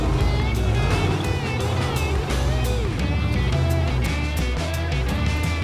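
An off-road truck's engine revs loud and close as it torques through a tight rock course at the Tuff Truck Challenge, a continuous throbbing roar with rising and falling revs and sharp bursts over the top.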